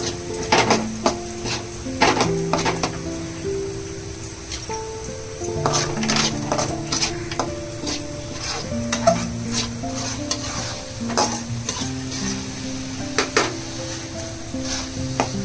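Spoon stirring a thickening dish in a sizzling pan, with repeated scraping strokes and clinks of utensil against metal over a steady frying hiss, close and busy throughout.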